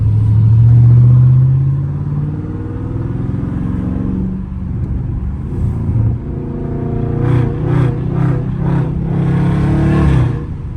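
Loud Dodge Scat Pack revving on a late-night drive, a heavy close engine roar that swells and falls, then a series of rapid throttle blips near the end.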